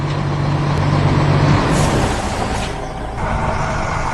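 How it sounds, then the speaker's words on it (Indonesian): A large truck rumbles past at close range, heavy low engine noise with a brief hiss partway through, no voices. "Lihatlah, truk kuning besar itu berjalan menyusuri kota."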